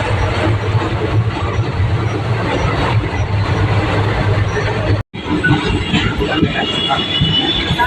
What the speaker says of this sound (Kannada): ಟ್ರೈನ್ ಸ್ಲೋ ಆಗಿ ಹೋಗ್ತಾ ಇದೆ.